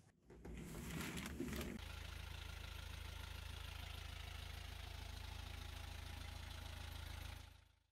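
A boat engine runs steadily after several oil changes that cleared water from its oil, a loud, even idle with a deep low rumble that holds for about six seconds after a brief clattery start.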